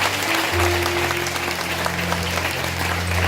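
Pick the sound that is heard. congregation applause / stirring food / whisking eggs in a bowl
congregation applause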